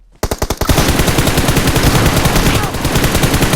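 Loud, rapid automatic gunfire in PUBG Mobile, a long unbroken burst of closely spaced shots right up close, preceded by a few separate single shots at the start.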